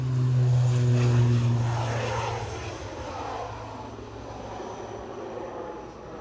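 A airliner lands on the runway at Edinburgh Airport, tyres meeting the tarmac under a loud, steady engine roar with low droning tones that gradually ease off as the aircraft rolls out.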